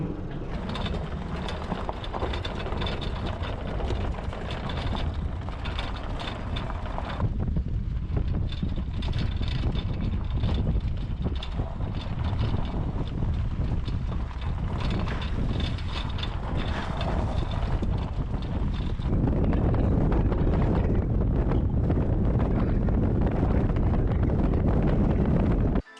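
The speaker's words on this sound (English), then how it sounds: "I'm gonna put this on the window and drive down this gravel road, and you can hear the noise and vibrations." A Honda Fit carrying a Hi-Lift jack on its Thule roof rack drives down a gravel road, giving a continuous rumbling roar of tire crunch, wind and rattling vibration heard close from inside the car.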